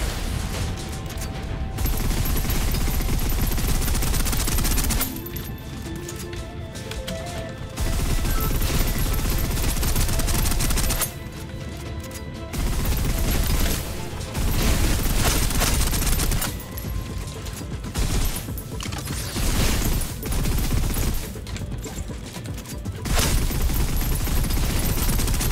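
Sustained video game gunfire in the shooter Snowbreak: loud rapid automatic bursts and heavy fusillades that rattle on for long stretches, broken by short lulls before resuming.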